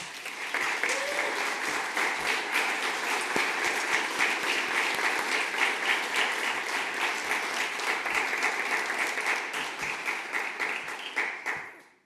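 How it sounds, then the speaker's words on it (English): An audience at an animation convention gives a sustained round of applause that rises quickly, holds dense and even for about eleven seconds, then fades out. "for whom I'd like a big round of applause"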